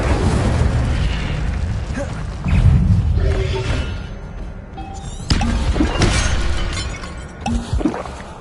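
An Incendio fire spell is cast in the video game Hogwarts Legacy. It brings loud bursts and crackling blasts amid combat noise, with several sharp impacts and booming surges across the stretch.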